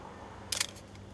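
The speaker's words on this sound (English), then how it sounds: "And listen to that shutter." A metal-and-glass film camera shutter firing at a slower speed than 1/250 s, a single short crisp mechanical snap heard close up in an otherwise quiet room.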